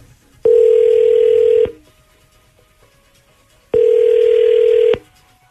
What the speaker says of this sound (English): let's call Craig and find out who he sends it to